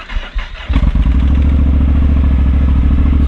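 Motorcycle on the Kharami mountain pass heading toward Dagestan: after a brief clatter the engine catches and settles into a loud, close, steady idling throb.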